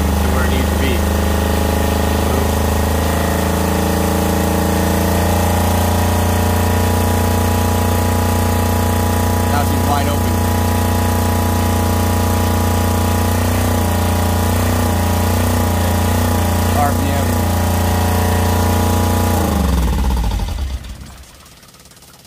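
A Fischer Panda 7.5 kW marine diesel generator runs steadily up close, a loud continuous engine drone with mechanical knocking, then winds down and stops near the end.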